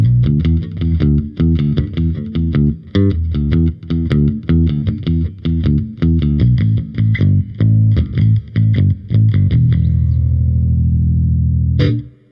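A distorted electric guitar plays a chugging riff of chords and single notes through a Princeton Reverb reissue tube amp, middle and bridge pickups together, ending on a long ringing chord that cuts off.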